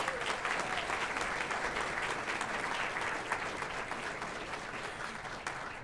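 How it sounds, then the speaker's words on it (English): An audience at a university graduation ceremony claps steadily for a few seconds, a dense, even wash of applause that fades slightly toward the end, with no talking over it. "Please give her a round of applause."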